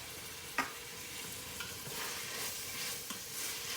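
Spoon scraping and stirring tomato paste into a sizzling sausage mixture in a pan, a steady frying hiss with occasional louder scrapes and clacks, close and with no talking.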